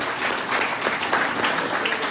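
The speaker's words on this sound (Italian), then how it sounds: "L'applauso dei ragazzi" Applause from young people in the audience at an awards ceremony for local young achievers in Pomigliano d'Arco, a dense steady wash of many hands clapping throughout, fairly loud and with no speech.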